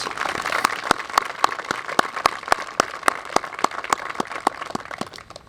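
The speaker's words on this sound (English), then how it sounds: "Please give a round of applause to all of our sponsors." Outdoor crowd at a Charters of Freedom dedication ceremony in Bolivia, North Carolina, applauding the sponsors, with sparse clapping and a few sharp, distinct claps standing out over a soft wash of hands.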